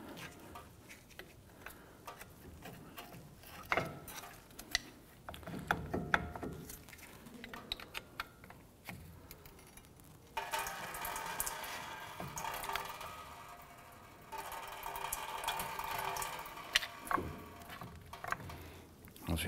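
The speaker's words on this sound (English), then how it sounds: "you can use a pry bar on the top to go ahead and work this off" Metal scraping, knocking and clunks as a pry bar works a front brake caliper off a 2011-2018 Ram 1500, with irregular bursts and a denser grinding stretch midway, over light background noise.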